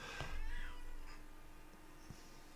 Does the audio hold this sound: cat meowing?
yes